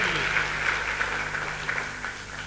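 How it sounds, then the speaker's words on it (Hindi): An audience applauds achievers at a Safe Shop motivational business event, a dense, steady wash of clapping from a large crowd, fairly loud and continuous, with faint voices underneath. "एक बार जोरदार तालियां सभी अचीवर्स के लिए"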